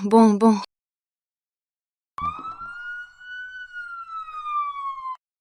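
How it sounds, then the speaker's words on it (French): A civic guard siren rises and holds a steady wailing tone for about three seconds, loud and fairly close, after a brief burst of speech. "La sirène de la garde civique arrête les crimes et protège le public."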